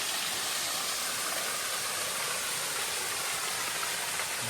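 Khlong Chao waterfall and its stream on Koh Kood rush with a dense, constant hiss of falling and flowing water, loud and unbroken, with no voices.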